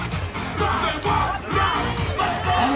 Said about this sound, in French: On applaudit. On crie.